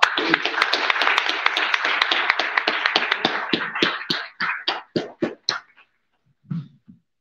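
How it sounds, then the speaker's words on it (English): An audience at a Texas author series event applauds, a dense burst of many hands clapping that thins out to a few scattered claps and fades to quiet, with a brief murmur at the end. "Another round of applause."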